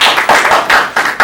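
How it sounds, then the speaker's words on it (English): A brief burst of audience applause at a business conference, several loud clustered waves of clapping hands rising and falling across just over a second, with no voices over it. "Please give him a round of applause."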